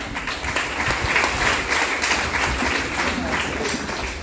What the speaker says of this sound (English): Now let's give a round of applause to them.